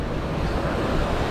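Surf washes onto a beach strewn with sargassum seaweed in a constant loud rush, mixed with wind buffeting the microphone and no talking.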